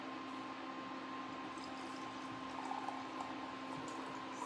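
Apple cider poured into a glass, a faint steady liquid trickle with a continuous background hum, no talking.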